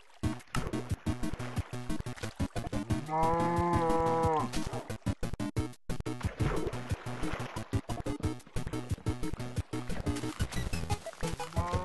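A Minecraft cow moos in a drawn-out call amid a busy, rhythmic game soundscape of clicks and ambient noise, moderately loud.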